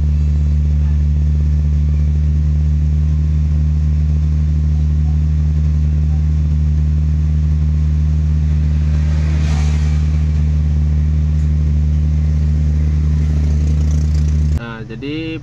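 Toyota Vios engine idling unsteadily with RPM climbing on its own, a loud, steady close-up drone that continues without a break and cuts off abruptly near the end.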